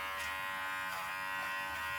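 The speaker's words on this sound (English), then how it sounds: "just got him used to the clippers" Electric clippers buzz steadily and close up while a dog is groomed, a continuous even drone with slight wavering in pitch.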